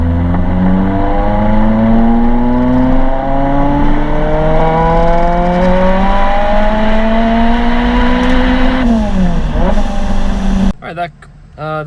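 A K-swapped Mini Cooper engine screams up through the revs in a long, loud dyno pull in fourth gear, then drops off sharply near the end.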